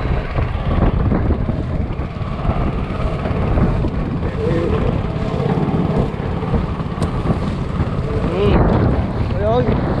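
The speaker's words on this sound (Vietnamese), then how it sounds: "Trời ơi, gió liệt luôn kìa." Strong storm wind roars and buffets the microphone during heavy rain on open water near a mangrove forest, a loud, constant blustery rush with a boat's drone underneath.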